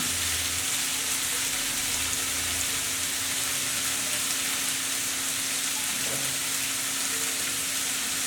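Spice masala frying in oil for beef biryani crackles in a pot, a steady rain-like sizzle throughout with a faint low hum underneath and no voices.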